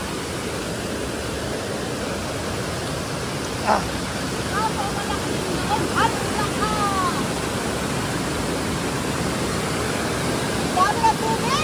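Water rushes steadily from a stream at Bride's Pool on a muddy, slippery trail crossing, a broad continuous roar that masks a few faint background voices.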